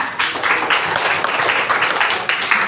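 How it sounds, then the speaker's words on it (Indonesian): A classroom of students applauds a classmate with a steady, dense burst of clapping that stays even for a few seconds, close and fairly loud. "Kasih tepuk tangan untuk temannya"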